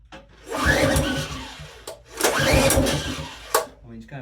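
A construction machinery engine is pulled with its recoil starter twice, each a rough rasping pull that sputters briefly without catching, followed by a sharp knock, close and moderately loud.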